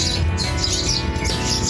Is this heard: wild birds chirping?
yes